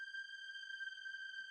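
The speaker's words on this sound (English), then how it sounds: "we're now going to add a high string, so it sounds like this" A high string synth preset from Serum 2, played in a speed garage track, holds one steady, bright sustained tone at low volume, ending with a short click.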